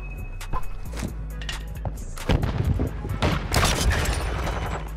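Gunfire in a first-person video game shooter: sharp single shots, then dense bursts and booming blasts building toward the end, loud and close, with game ambience underneath.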